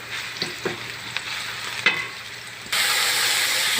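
Onion and garlic sizzle in hot oil in a pan, with a few sharp stirring scrapes at first; the frying hiss then jumps to a louder, steady broadband sizzle near the end.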